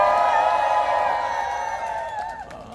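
A rally crowd at a 2019 political protest applauds and cheers in a dense, sustained wash of sound that slowly fades over a few seconds, with scattered shouts on top.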